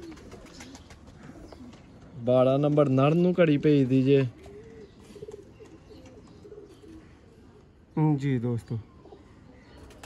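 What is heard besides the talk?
pigeons cooing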